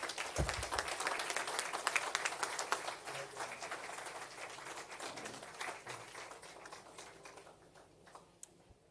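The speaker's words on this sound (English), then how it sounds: "Let us thank one more round of applause for the Most Honorable Prime Minister" A round of applause from the audience at a national disaster risk management council meeting in Jamaica, fairly faint and distant, a patter of clapping that thins and dies away toward the end.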